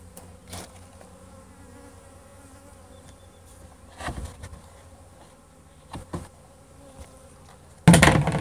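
Honeybee buzzing thinly during a swarm capture, a faint steady drone close by, broken by a few soft knocks and a loud bump at the very end.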